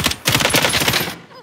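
Rapid automatic gunfire in a video game, a dense sustained burst of shots that fills most of the moment, loud and close, briefly pausing before continuing.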